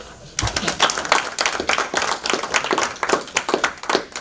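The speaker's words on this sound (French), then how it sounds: "je pense que nous devrions tous les applaudir" An audience at a formal speech event applauds, dense steady clapping from many hands that starts abruptly and continues throughout.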